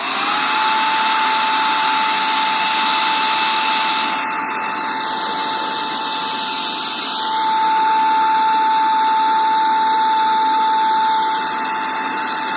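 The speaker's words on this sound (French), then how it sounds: "Là je vais démarrer l'aspirateur et vous allez voir" A cordless handheld 3-in-1 vacuum cleaner runs at its first speed, a loud, piercing steady whine with a high-pitched motor tone that dips briefly in pitch midway before recovering, close and continuous with no talking.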